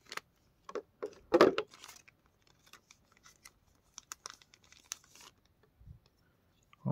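Scissors cut through the plastic packaging of a Dragon Ball figurine box, giving a few sharp snips and crinkles, close and quiet, with soft handling rustles between them.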